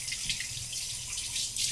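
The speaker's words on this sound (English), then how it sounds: "Wash my hands real quick." Water runs steadily from a kitchen tap while hands are washed during bread making, a constant close hiss and splash with no pauses.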